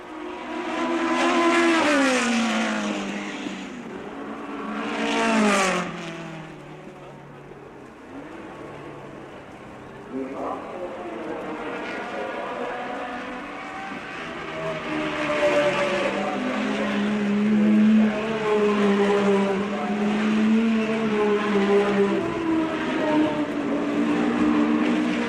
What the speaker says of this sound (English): the race cars flashed by the grandstands at pretty high speeds